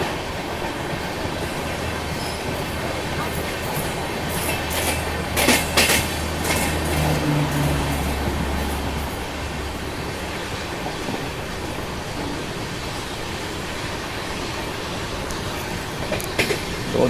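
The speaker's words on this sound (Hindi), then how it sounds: "और इस तरफ रानी कमलापति मैसूरू स्पेशल को ओवरटेक कर रहे हैं हम, जो कि करीब 13 घंटे लेट चल रही है।" Indian Railways passenger train running at speed while overtaking another train, a steady rumble with rhythmic wheel clatter and brief louder passing bursts, heard from inside with no talking.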